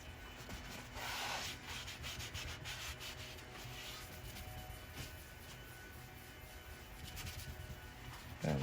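Steady, close rubbing and scrubbing scrapes away old seal residue from the hatch of a 21-window VW Bus during restoration, a continuous abrasive rasping with no talking.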